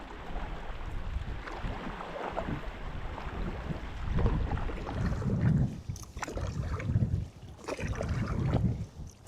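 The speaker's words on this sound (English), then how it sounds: "All right, so the wind just picked up," An east wind picks up on a lake around a solo paddler's boat, a steady rushing buffet of gusts against the microphone with water sloshing, loud and close with no talk.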